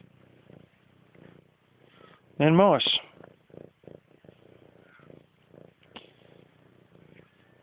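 A fat pet cat on a self-sufficient homestead purrs in a low, rumbling stretch and gives one loud rising meow, while someone talks over it nearby.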